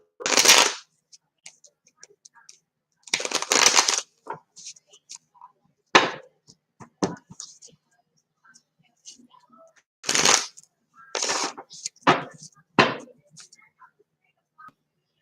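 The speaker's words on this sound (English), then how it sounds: "Two more shuffles." Playing cards riffle-shuffled repeatedly up close, crisp fluttering bursts separated by pauses and small handling clicks.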